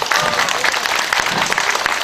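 Audience applause at an outdoor pumba (Korean folk busking) show at the Jinhae Gunhangje festival, a dense, steady burst of many hands clapping with crowd noise, loud and continuous throughout.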